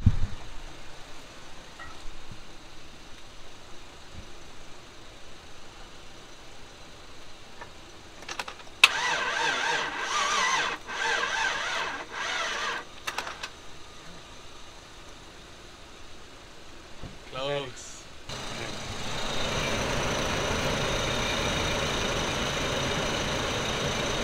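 A Chevrolet Silverado truck engine, just fitted with a new camshaft, cranks and fires up, then settles into a steady, loud idle that runs to the end after several uneven bursts.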